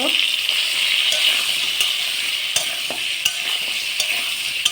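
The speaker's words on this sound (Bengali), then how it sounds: "এই যে নেড়ে দিলাম বন্ধুরা, এবারে ভেজে নেব ভালো করে।" Pointed gourd pieces seasoned with turmeric and salt fry loudly in oil in a kadai. A constant hissing sizzle runs throughout, broken by regular clinks and scrapes as a spatula stirs the pan.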